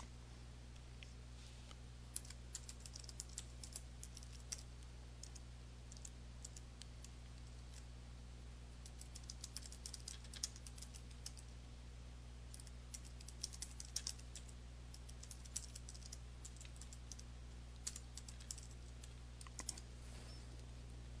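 Someone types on a computer keyboard while composing an email in Outlook 2013, producing a faint, irregular patter of light key clicks over a low steady hum, with no talking.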